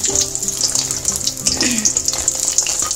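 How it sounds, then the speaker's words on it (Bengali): Bori lentil dumplings fry in hot oil in a home kitchen for Bengali shukto, giving a close, steady crackling sizzle that runs without a break. "এই জন্য আজকে ফার্স্টেই আমি আগে বড়িটাকে ভেজে নিলাম"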